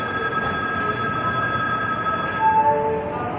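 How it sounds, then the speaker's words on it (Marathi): Amravati Express pulling out of Murtizapur railway station, a steady rolling rumble with thin high wheel squeal tones drawn out over it, moderately loud and continuous. "आपला ट्रेनचा डिपार्चर होता सध्या अमरावती एक्सप्रेस मूर्तिजापूर रेल्वे स्टेशनवरून"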